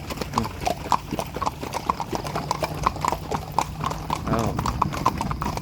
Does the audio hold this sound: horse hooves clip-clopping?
yes